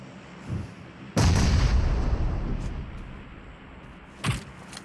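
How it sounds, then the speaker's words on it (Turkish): A grenade blast in PUBG Mobile, one sudden loud boom followed by a rumbling decay over a couple of seconds, then a sharper pop shortly after amid quiet game ambience. "Bekle, benim de bombam var. Kendi attı. Bombayı ben atmadım."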